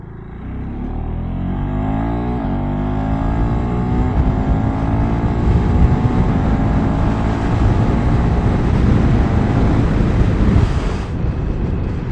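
A KTM motorcycle with a quick shifter accelerates hard through several gears, its engine note climbing in repeated rising sweeps under heavy wind rush, loud and close, with no talking.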